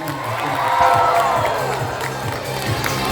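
An audience cheers and applauds for stars of a Twinkle finale, a loud crowd roar of claps and shouts that carries on throughout.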